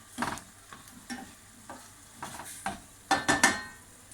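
Spoon stirring salted food in a pan, a series of short scraping strokes with light clinks, louder bursts toward the end, alone with no talk.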